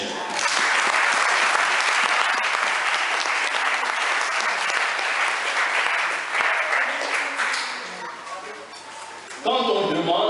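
A church congregation applauds loudly at a pastor's ordination service, a dense, steady wash of clapping that gradually thins and fades near the end, with voices mixed in.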